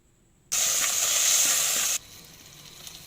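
A sudden loud sizzle of chili powder hitting hot oil for tempering, hissing strongly for about a second and a half before dropping to a soft crackle.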